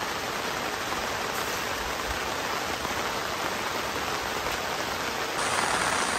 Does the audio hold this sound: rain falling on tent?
yes